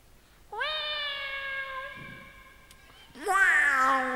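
A human voice imitates a cat, giving two long, drawn-out meows, the second louder and more strained, with no other sound around them.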